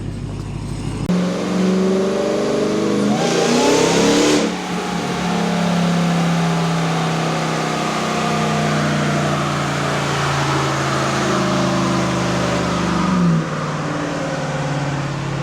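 A Jeep SRT engine on a chassis dyno winds up through a full pull, a loud, close, sustained roar climbing steadily in pitch, then falling away as the throttle closes near the end.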